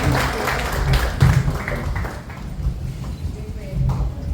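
Audience clapping at a retirement program, a steady wash of applause from a crowd that swells and fades over several seconds, with voices mixed in.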